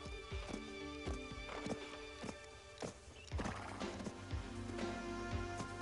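A horse's hooves clip-clop on the ground in a quick, irregular rhythm of close, distinct strikes, with a neigh and some music-like tones running underneath.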